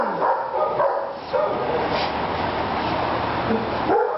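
A dog barks and whimpers in short yips during a fear-aggression training session with a treat bucket, with a person's voice mixed in and fairly loud throughout.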